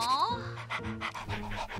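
A dog pants in an animated Barbie episode. A short voice opens the moment, then rapid, rhythmic breathy pants follow close up.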